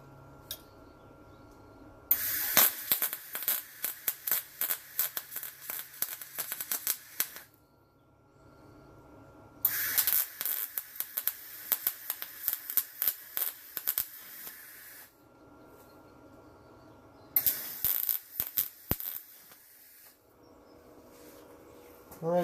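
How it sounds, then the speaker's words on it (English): Harbor Freight Titanium 140 MIG welder lap welding uncleaned 22 gauge steel, giving three separate runs of steady crackling, sputtering arc hiss, each several seconds long, with quiet pauses between them. "22 gauge steel lap weld."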